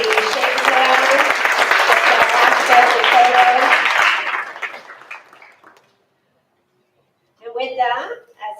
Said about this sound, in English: Please give him a round of applause as he shakes hands